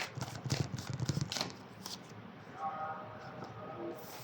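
Tarot cards riffle and slap together in a few quick, soft shuffling bursts close by, then fade into quiet room tone.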